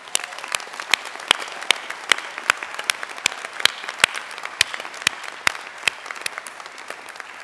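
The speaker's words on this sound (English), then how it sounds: "I think you all deserve another round of applause." A graduation ceremony audience claps for the graduates: a fairly thin, spread-out round of clapping with distinct sharp individual claps popping out, steady throughout.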